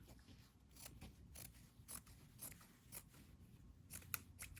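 Scissors snip repeatedly through doll dress fabric along a center line, a series of close, crisp cuts at an uneven rhythm with no voices.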